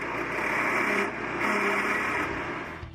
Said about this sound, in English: Start the machine, engage the drum, and roll it over top the trip hazard